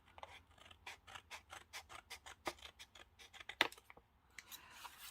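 Paper is cut with scissors in a steady series of quiet, close snips, each blade closure a short crisp click, with a brief rustle of paper at the end and no speech.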